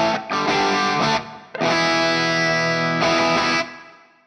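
An electric guitar plays through a Demoiselle Chorus pedal set to true bypass, with the amplifier adding drive. Loud, sustained overdriven chords ring out in several strums, the longest held for about a second and a half, with no talking.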